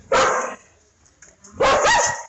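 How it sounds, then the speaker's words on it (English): Two dogs bark while eating, two loud bursts of sharp, overlapping barks close by, separated by a brief quieter pause. "I don't know how they can bark like that while they're eating."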